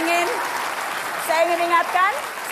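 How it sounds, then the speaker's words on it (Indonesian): A live studio audience at a televised political debate claps under a speaking voice, the applause spread beneath the talk throughout. "Boleh kita kasih tepuk tangan untuk keduanya."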